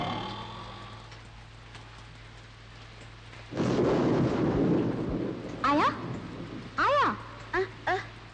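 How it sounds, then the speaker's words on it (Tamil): Heavy rain with thunder, a soft hiss of rain that swells abruptly into a loud downpour and rumble partway through, with voices speaking over the storm near the end. "மழை ஜோடு பேஞ்சு நிக்குது"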